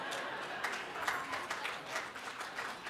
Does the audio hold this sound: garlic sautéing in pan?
no